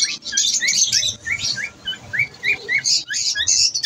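Grey cockatiels call loudly in a bird shop, giving repeated bright, rising chirps and whistles in quick bursts close by.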